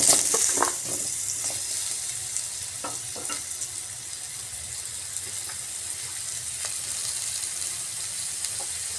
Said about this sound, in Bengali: এবারে তেলের মধ্যে আলুগুলা ভেজে নিচ্ছি